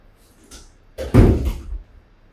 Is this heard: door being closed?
yes